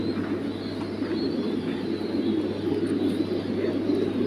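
French pigeons kept in a cage give a steady low cooing over a constant background hum, continuous and fairly close throughout.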